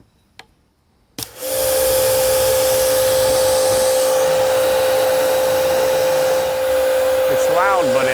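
An EGO Power+ pressure washer starts after a click and runs loudly and steadily for several seconds, its motor hum and spray hiss holding constant with a brief pitch wobble near the end.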